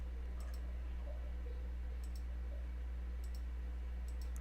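A computer mouse clicks in small pairs at a few scattered moments, faint and crisp over a steady low electrical hum, with no speech.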